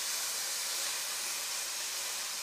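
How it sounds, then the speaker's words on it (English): Steam rises from a cooking pan as garlic and anchovy pepper cook, giving a soft, continuous broadband hiss or sizzle that stays even throughout the short stretch with no voices. "A little bit of steam."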